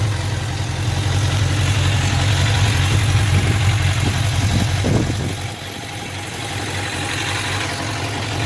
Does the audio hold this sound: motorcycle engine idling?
yes